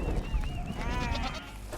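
Sheep bleating on a nomadic livestock farm in Mongolia, one animal from a genetic breeding program calling in a quavering, wavering bleat over low rumbling background noise.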